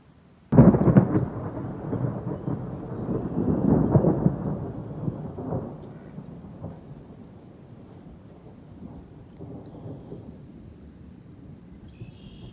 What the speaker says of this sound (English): It's been so stormy this year.